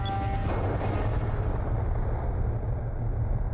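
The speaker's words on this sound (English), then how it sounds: "It sounded like an explosion." A deep, rumbling explosion booms loud in the Skies of Arcadia video game, a sharp burst at the start decaying into a long, steady low roar.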